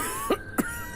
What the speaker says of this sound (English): He coughed again and laughed at the same time, making a horrible, wet, choking sound.